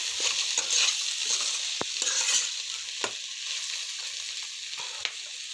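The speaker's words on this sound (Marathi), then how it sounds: "फ्राय होऊ दे छान असा" Peas frying in a pan for a green pea and pea-pod recipe, with a steady broad sizzle and a few sharp clicks of a spoon stirring against the pan, close and alone.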